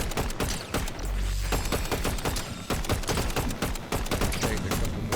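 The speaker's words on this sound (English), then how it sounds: "taking a couple more shots on there behind the rocks" Gunfire in a Fortnite Zero Build ranked match: a dense, loud fusillade of rapid shots that continues almost without break, with no talk over it.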